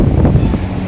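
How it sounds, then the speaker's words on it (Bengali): Strong sea wind gusts across a hotel balcony facing the ocean at Puri, loud rumbling buffeting against the microphone, brief and with no voices. "এই ব্যালকনি, প্রচণ্ড হাওয়া এখানে।"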